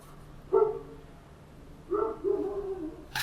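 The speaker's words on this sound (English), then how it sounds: "the dogs are going crazy." Dogs bark excitedly in two bursts, a short volley followed by a longer run of yips and barks, fairly close and loud against a quiet indoor background.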